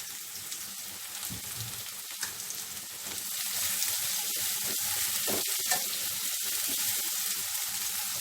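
Vegetables for a string bean and fish dish frying in a pan, a dense, steady sizzle that grows louder partway through, with occasional stirring clatters close by.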